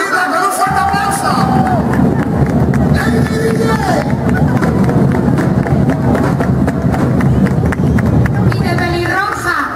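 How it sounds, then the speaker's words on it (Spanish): Large crowd at a DJ event during Caravana de Palomos 2012 in Badajoz, with dense, continuous clapping and cheering under loud background music and crowd babble, filling the whole stretch. "Vamos a recibirla con un fuerte aplauso."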